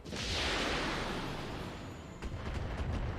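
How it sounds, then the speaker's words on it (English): Missile explosions in the Battletech video game, a sustained roaring blast that fades to a rumble, followed by a few crackling secondary pops; no talking over it. "a couple little missile explosions on Succubus's hull"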